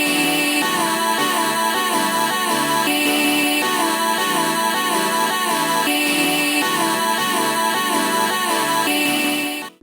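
A sample-flipped trap beat melody built from keys chords thickened with a synth layer and a chopped vocal sample, steady and loud throughout with no drums yet, ending abruptly.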